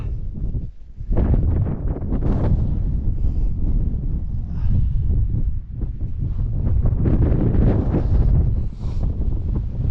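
Strong gusting wind across an open moor on the Shatton Edge and Abney Moor walk, heavy low buffeting roar pounding the microphone nearly without pause, loud and close, with no speech.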